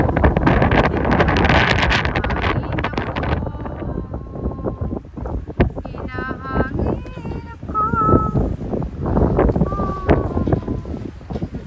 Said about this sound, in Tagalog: Sobra ang hangin dito.